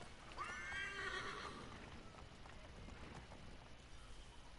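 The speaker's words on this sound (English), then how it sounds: "His horse just ran away from him." In the video game Assassin's Creed 3, a horse gives a loud whinny and then runs off, its hoofbeats fading into faint wind and background noise.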